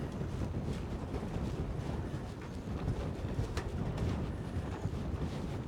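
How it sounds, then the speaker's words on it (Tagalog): Strong wind on a fishing pier buffets the microphone with heavy, continuous low rumbling and gusty roar, loud and close, with no voices. "Medyo malakas ang hangin ngayon."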